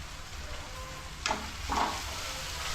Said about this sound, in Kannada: ಉಪ್ಪಲ್ಲೇ ಇನ್ನೊಂದು ಸ್ವಲ್ಪ ಫ್ರೈ ಮಾಡಬೇಕು